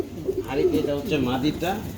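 Pigeons for sale, including a male bird, give soft throaty coos several times over two seconds, close by, with someone talking over them.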